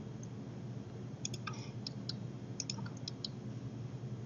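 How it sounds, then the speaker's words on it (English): Computer mouse clicks while confirming a dialog in bridge design software, several small, sharp, quiet clicks scattered unevenly over a soft background hum, no voices. "So I'm going to click OK."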